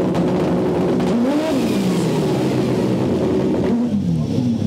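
A turbocharged snowmobile engine roars and revs loudly, its pitch sweeping up and down in surges, with a harsh, boosted whine over a constant rumble.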